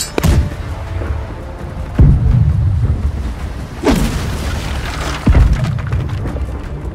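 Ship guns firing in Blackwake: four heavy booming cannon shots spaced about two seconds apart, each with a rumbling decay, loud and close, with no talk.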